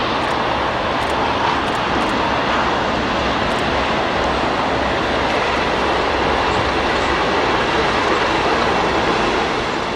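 A steady, loud roar from two Class 37 diesel locomotives as a Holyhead to Warrington passenger train passes close by, with a constant rumbling drone throughout.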